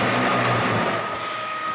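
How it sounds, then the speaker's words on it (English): A Tommy Industrial MC315B cold saw running its automatic cut cycle on pipe: a steady, loud mechanical drone with a high whine that slides downward partway through, close by and without voices. "I'll hit the foot pedal and you'll be able to see the jaws close on the vise and it automatically coming down and doing its cut cycle"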